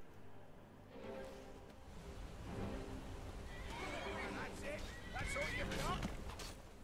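A horse whinnies several times in the second half of a Skyrim gameplay scene, with hoof clatter and a steady game background underneath.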